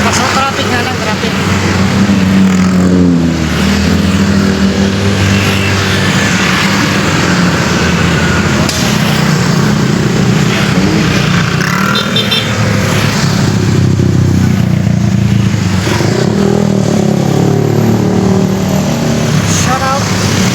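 Busy road traffic on a shortcut route, with cars and motorcycles idling and moving close by in a steady, loud engine drone that runs throughout, with someone talking over it.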